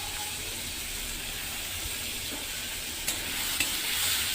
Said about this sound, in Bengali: পেঁয়াজগুলো সামান্য একটু ভাজা হবে, নেড়ে চেড়ে।